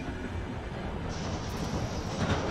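A subway train rolls past in Marvel's Spider-Man Miles Morales, a loud, dense rail rumble with metallic wheel hiss and a brief high squeal partway through.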